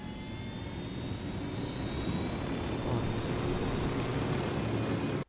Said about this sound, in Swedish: Helikopter, nice.